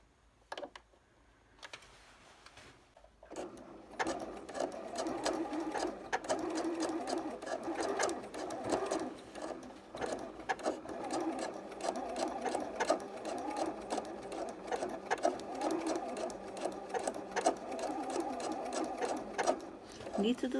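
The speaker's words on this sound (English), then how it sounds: "the machine will stitch straight, straight, straight, zigzag, straight, straight, straight, zigzag" A sewing machine stitches steadily around a summer dress skirt, alternating straight and zigzag runs in a fast, continuous mechanical whir that holds near and fairly loud for most of the stretch after a short quiet start.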